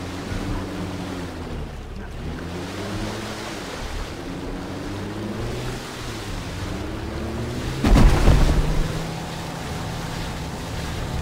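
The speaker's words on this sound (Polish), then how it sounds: "Tu sobie popłynę łódką, motorówką." Motorboat on water in the video game Far Cry 3, a low droning engine with wavering pitch over washing water and wind, a louder splash partway through, no talk.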